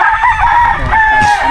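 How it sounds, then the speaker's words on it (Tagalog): Rooster on a Philippine farm crows loudly and close, a drawn-out call followed by a second crow overlapping, with faint background clucking. "Ang daming manok din doon."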